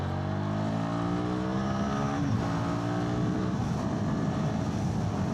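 A Royal Enfield Guerrilla 450 motorcycle engine pulls steadily as the bike rides along, its pitch climbing through the gears and then settling into a constant close, loud drone mixed with rushing wind.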